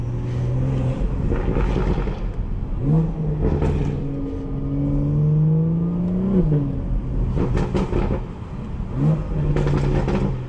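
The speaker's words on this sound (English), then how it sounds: "you guys are gonna be hearing a lot of burbles today" A 2018 BMW 440i xDrive in sport mode drives through New York City streets, its engine droning and rising through the revs as it shifts, with throaty exhaust rumble and short crackling bursts close by and no voices.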